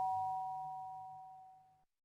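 A doorbell chimes once in a quiet room, two clear bright tones that ring out and slowly decay over about two seconds, with no talking.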